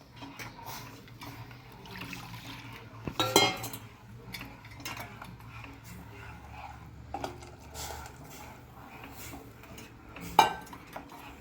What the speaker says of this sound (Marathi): पाणी टाकते याच्यात.